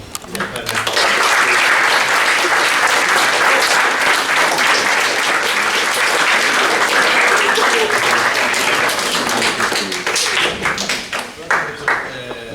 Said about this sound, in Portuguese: eu proponho que pelo menos deem agora uma valente salva de palmas